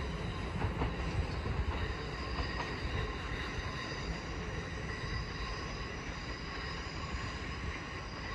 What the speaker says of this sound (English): Now arriving is the 1116 London Overground service from Chingford to London Liverpool Street, being worked by Class 710.